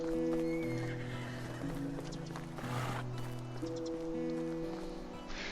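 Horses whinny in the medieval village game Medieval Dynasty, with hooves clip-clopping beneath a steady hum of in-game background noise.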